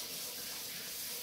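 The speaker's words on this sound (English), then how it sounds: "I'll rinse my hands again" Hands rinsed under a running kitchen tap after handling a raw whole chicken, a faint, steady splashing stream of water with no pauses.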